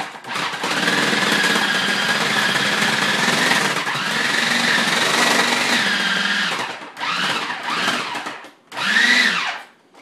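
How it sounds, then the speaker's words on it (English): Food processor shredding a brick of sharp cheddar cheese, a loud grinding motor roar for about seven seconds, then two shorter bursts as it stops and restarts, heard up close without talk. "I have a brick of sharp cheddar cheese. I'm just going to put that in the food processor."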